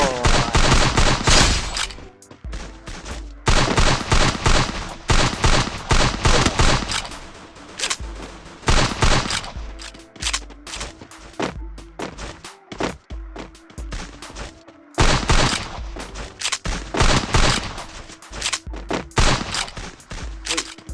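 Gunfire in the Free Fire battle royale game: loud bursts of rapid automatic shots come in clusters with short pauses between them, close and sharp, with no talk.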